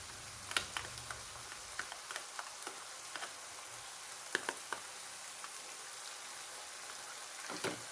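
Chili sauce sizzles in a hot pan of spaghetti bolognese, a steady close frying hiss broken by small irregular pops and spatters, with no talking.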